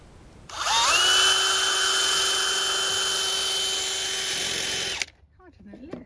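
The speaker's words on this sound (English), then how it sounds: "stand back Murphy, mummy with a drill." A power drill whines up quickly and runs at a steady, loud, close pitch for about four seconds before cutting off, driving into wood while building a wooden plant display stand, followed by brief quiet and faint movement.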